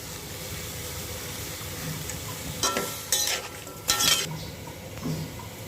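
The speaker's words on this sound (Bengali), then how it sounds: "এবার আমরা পুঁই শাকের ডাটা আর আলুগুলো সিদ্ধ করে নেব" Malabar spinach stems and potato pieces boil in salted water in a pot, giving a steady bubbling hiss broken by a few sharp clinks of a utensil against the pot.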